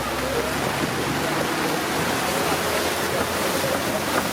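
Rain pours down on a safari drive among wildebeest, a dense, unbroken hiss of heavy rainfall filling the whole clip at a loud, even level.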